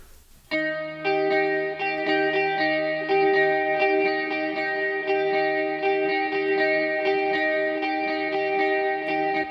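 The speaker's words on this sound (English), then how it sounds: "You can hear that this hall reverb just helps to soften that guitar and push it back in the mix a touch." A sustained electric guitar part in a pop track is washed in lush hall reverb, with ringing chords and steady tones that blend softly and sit back in the mix, continuous and full for the whole stretch.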